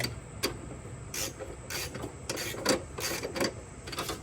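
A wrench turns a bolt on a Nissan Pathfinder R50 subframe, giving quiet, close bursts of ratcheting, clicking and scraping at uneven intervals.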